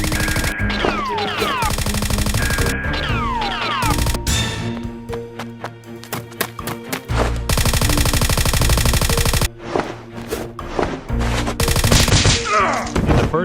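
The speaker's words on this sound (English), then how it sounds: "the guards have a shooting battle with each other." Nerf guns firing in a shooting battle between guards, rapid bursts of clattering shots and thuds layered with loud game-style music and effects, continuous and busy throughout.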